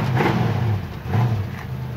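A 1968 Ford Mustang convertible with an automatic transmission idles steadily, its low engine rumble close and continuous with slight pulsing and no voices over it.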